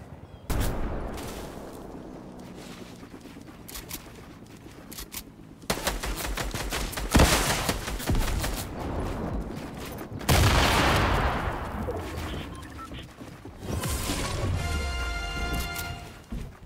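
Rapid gunfire crackles through a Fortnite Battle Royale match, with loud sustained bursts of automatic shots and sharp cracks coming in several waves, some near and some farther off.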